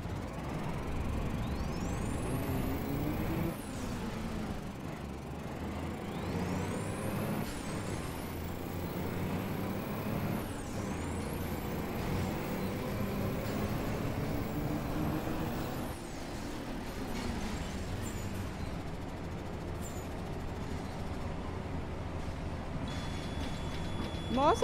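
A school bus rolling down a dirt road with failing brakes, its engine and road noise rumbling steadily throughout, with rising and falling whine sweeps and brief hisses, while people talk over it.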